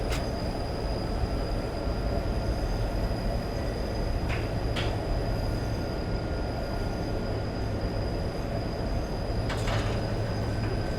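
A Class 37 diesel locomotive in Train Simulator 2015 powers up on a climb, its steady low engine drone and rail rumble continuous throughout, with a few faint squeals and clunks from the wheels and track.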